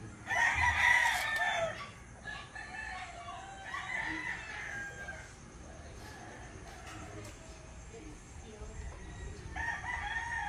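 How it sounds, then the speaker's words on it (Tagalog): A rooster crows loudly several times in a rural Philippine province in the morning, with pauses between calls and quieter clucking and background noise in between. "Maingay ang manok."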